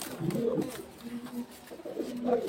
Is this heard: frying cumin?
no